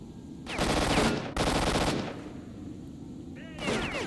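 Two long bursts of rapid automatic AK rifle fire ring out in the video game STALKER: Shadow of Chernobyl, then a shorter third burst. A faint voice sits under the shots.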